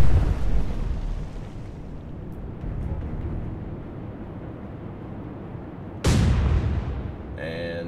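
Naval gunfire in the Atlantic Fleet game: a steady low rumble of distant firing, then one loud, sharp blast near the end that decays slowly.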